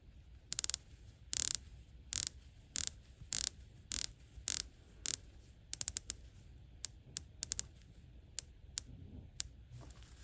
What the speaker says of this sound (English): So let's take a listen to bezel action before I throw these on wrist.